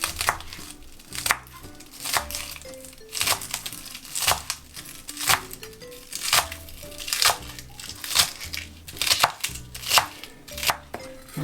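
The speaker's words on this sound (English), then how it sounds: "So with your spring onions now, you want to cut this" A knife chops spring onions finely on a board, a quick steady rhythm of crisp, close taps continuing throughout with no talking.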